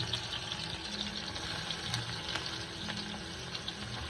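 Onion goes into hot oil where mustard seeds have already crackled, for a potato bhaji; a dense, steady sizzle with faint spattering pops runs throughout, close and moderately loud, with no talk.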